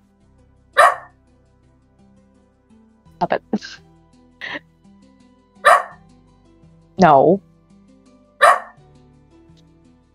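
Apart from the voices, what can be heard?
dog barking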